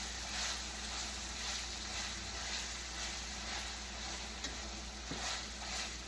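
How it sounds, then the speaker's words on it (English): Ground beef fries in a very hot pan, giving a steady, soft sizzle and hiss throughout, with an occasional faint scrape or stir and no talk. "The pan was a lot hotter for this second portion, so the meat cooked a little quicker."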